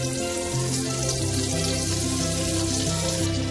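Butter and oil sizzle and spit steadily in a pan while cooking bread fried rice, a continuous close frying hiss with no pauses.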